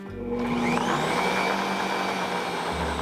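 Electric mixer whipping cream in a kitchen, a loud steady whirring drone that starts up and holds constant for a few seconds, close and alone.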